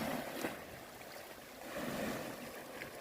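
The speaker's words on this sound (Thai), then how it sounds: "ช่วงนี้ก็ยังมีคลื่น คลื่นทะเลอยู่นะครับ" Sea waves lapping against the earthen embankment of a shrimp pond by the coast, a soft, continuous wash of water with gentle surges, heard alone under light wind.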